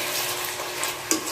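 Chicken wings frying in a pan for a tomato and chilli chicken dinner, a steady close sizzle with faint stirring scrapes and a small clink near the end, no voices.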